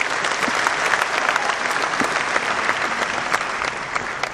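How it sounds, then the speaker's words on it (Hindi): Hearty audience applause for a team at an Amway Diamond celebration event, a dense, loud, sustained clatter of many hands clapping with no talk over it. "मैं चाहता हूं उनके लिए एक जोरदार ताली बजाएं"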